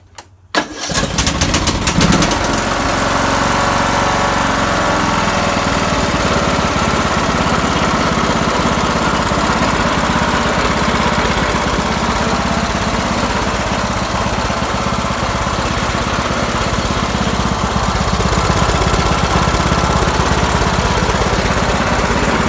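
A Craftsman/MTD lawn tractor, fitted with a new fuel pump, fuel cutoff and spark plug, cranks briefly and catches, then runs at a loud, steady, close engine drone for the rest of the clip with no voices.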